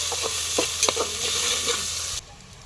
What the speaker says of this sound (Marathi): कांदा टाकायचा कढीपत्ता आपण वाटणामध्ये घेतलाय छान परतून घेऊया